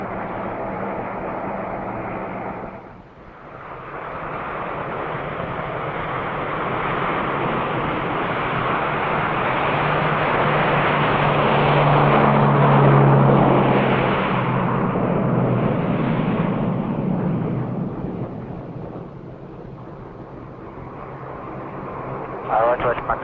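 A Lockheed LC-130 in flight over Antarctica gives a broad, steady engine and airflow roar that swells and eases, with a sharp dip near the start, while a voice talks over it.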